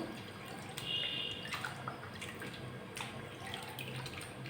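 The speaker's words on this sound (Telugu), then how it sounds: "ఇప్పుడు కడిగి వేద్దాం. ఇలా శుభ్రంగా కడుక్కొని," Spinach being washed by hand under running tap water, a steady close splashing and trickling with faint drips and no talk.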